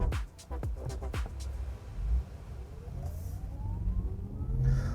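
A Porsche Taycan electric car pulls away, a low drivetrain hum rising slowly in pitch under faint road noise, with someone speaking briefly at the start.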